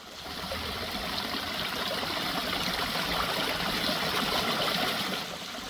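Water from a backyard garden waterfall pours steadily into a pond among rock crevices, a continuous close splashing and gurgling rush with no voices.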